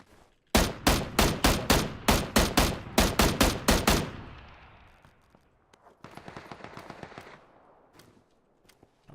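Automatic rifle fire in the video game PUBG from a weak M16: about fifteen loud, rapid close shots in a steady burst, followed by a fading tail and a second, quieter stretch of distant shots.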